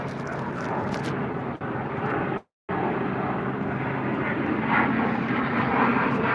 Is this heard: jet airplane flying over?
yes